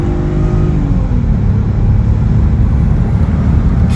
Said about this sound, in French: Et là je vais accélérer à fond.